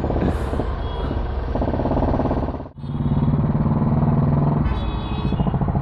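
An old Hero Honda Karizma engine, about two decades old with an aging carburetor, runs steadily right after starting, a loud close rumble that dips briefly once midway before picking back up.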